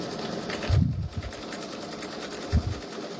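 A Brother embroidery machine, V5 or Luminaire, runs steadily through the final stitches of a Christmas hanging sign, with a low continuous hum and two short louder bursts of motor stitching.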